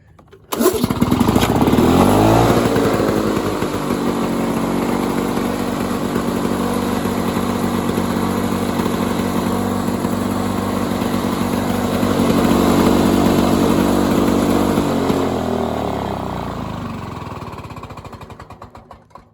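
A Lawn-Boy lawn mower engine running loud and close, a steady buzzing two-stroke drone that holds for most of the time, then slows and dies away toward the end.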